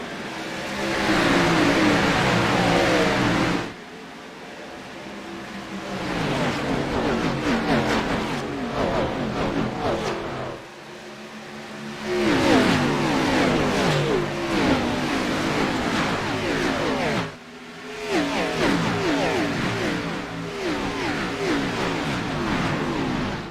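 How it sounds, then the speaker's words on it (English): Race cars in the ANZCAR Thunder series roar away at the start of race 11 at Darlington, with loud sustained engine revving in several long surges separated by brief drops as they accelerate up through the gears. "Let's listen to these cars roar away here for race 11 Darlington."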